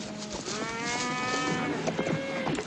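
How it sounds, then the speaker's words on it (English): A herd of cattle lowing repeatedly, several long overlapping moos rising and falling over steady outdoor background noise, no talk. "Cattle will be glad to get a drink."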